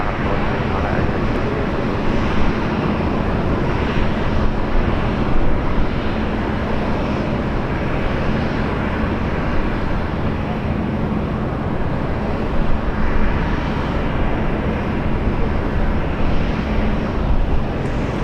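A BAe 146 jet at Brisbane Airport gives off a steady, loud broadband roar that holds for the whole stretch, with gusty wind buffeting the microphone.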